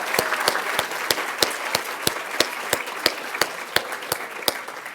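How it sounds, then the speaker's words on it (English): A crowd applauds graduates of a postbaccalaureate premed class at a Columbia University Class Day ceremony, with steady clapping throughout and sharp individual claps standing out in a regular rhythm. "giving a round of applause to those who are graduating today"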